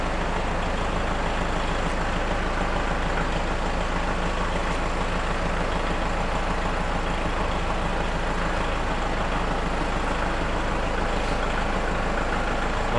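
A tractor with a 3-point hitch snowblower, now fitted with wheels, drives in reverse, giving a steady, loud low engine drone that holds constant throughout with no speech.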